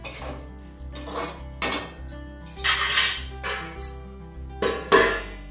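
A spoon stirs crushed tomato in a metal cooking pot, giving several irregular clanks and scrapes against the pot, close and moderately loud, with no one talking.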